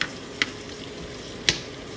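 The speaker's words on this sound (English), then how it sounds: "I'm sauteing some, in this case I'm using frozen Indian vegetables" Frozen Indian vegetables, carrots and beans, sautéing in oil for chicken biryani in a Ninja cooker: a steady low sizzle broken by two sharp scraping stirs, close and alone.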